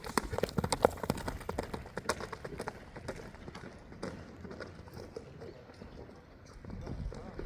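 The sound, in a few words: horse hooves galloping at a horse market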